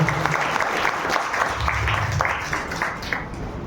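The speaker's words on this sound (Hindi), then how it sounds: "जोरदार ताली बजाएं।" Church congregation at a Resurrection Sunday service applauding together, a steady dense clapping that stays fairly close and even for a few seconds before easing slightly.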